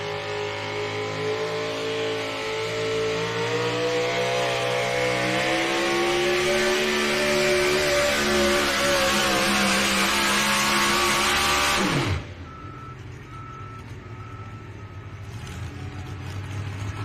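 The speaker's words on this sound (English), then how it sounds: "Back to four-wheel drive trucks." A four-wheel drive diesel pulling truck revs hard at a truck and tractor pull, its engine roaring and climbing in pitch for about twelve seconds before cutting off sharply, leaving a lower idle and distant crowd ambience.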